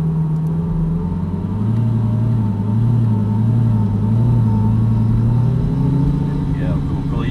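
A Lamborghini at a 2014 island festival pulls away slowly in first gear on a track, its engine a loud, steady low rumble that swells slightly as it rolls off, close by throughout.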